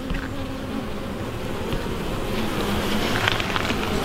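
Honey bees hum steadily around an open hive during an inspection, a close, continuous buzzing drone with brief sharper buzzes passing near, and no talk.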